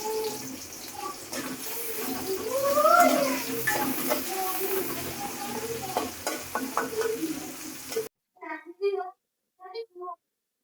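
Onions fry in oil in a pan, sizzling and crackling steadily while a utensil stirs now and then. A voice talks over the frying, and then it stops abruptly and only a few short spoken words remain.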